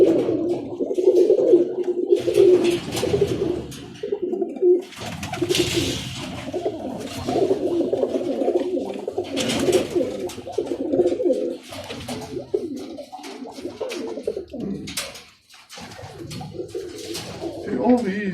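Birmingham Roller pigeons coo steadily in a loft, a dense chorus of soft, throaty, overlapping calls running throughout, with people talking over and between them.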